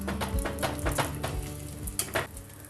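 An egg paratha fries in a pan with oil, giving a steady loud sizzle broken by several scraping spatula strokes, with no talking.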